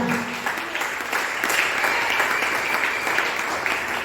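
A church congregation claps and cheers in acclaim of the Lord, with the applause sustained, fairly close and energetic, rising slightly in the middle.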